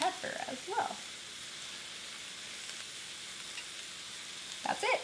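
Mushrooms seasoned with salt and pepper fry in a pan with a steady, even sizzle throughout, and a voice speaks briefly at the start and again near the end.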